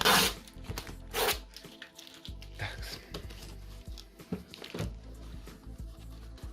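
Tape is peeled off a small cardboard parcel box holding Hot Wheels model cars, in repeated ripping and crackling bursts with short pauses, close and fairly loud, with no speech.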